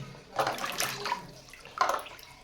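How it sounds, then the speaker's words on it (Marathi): Water splashes and gushes in short bursts into a large pot, fairly close and moderately loud. "एका मोठ्या भांड्यामध्ये पाणी घ्यायचे आहे"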